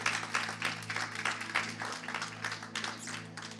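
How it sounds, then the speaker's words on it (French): A church audience claps at a Friday evening service, giving a brief, fairly faint patter of applause over a steady low hum. "Applaudissez-vous."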